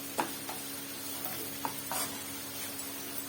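Sliced onions and green chillies frying in a pan for paneer masala, a steady close sizzle with a few faint stirring clicks and taps.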